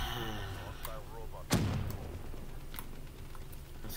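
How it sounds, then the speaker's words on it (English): A rocket blast lands amid gunfire in Call of Duty: Black Ops 3, one sharp close boom with a quick fading tail over steady game noise, while a player's voice talks excitedly before it. "No, rocket!"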